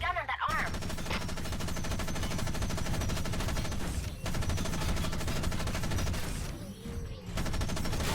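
Robots trade rapid machine-gun fire in a VR mech combat game, dense sustained bursts close and loud, with brief pauses between volleys.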